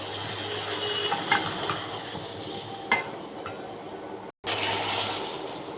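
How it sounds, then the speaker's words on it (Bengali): Cut bottle gourd tipped into a hot pan and stir-fried, with metal clinks and scrapes of a utensil over a steady hiss, a few sharper knocks, and a brief break near the end. "এবার আমি কেটে রাখা লাউগুলো ঢেলে দেব। ভালো করে কষিয়ে নেব।"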